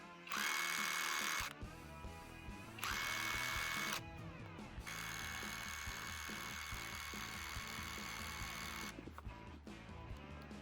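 Cordless 16V 160 Nm budget impact driver running forward at its lowest speed, a steady loud motor whine broken by a few short higher-pitched bursts, close up with no talk.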